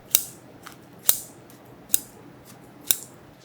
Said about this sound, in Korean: 식은 가지는 가위로 먹기 좋게 한입 크기로 잘라주세요.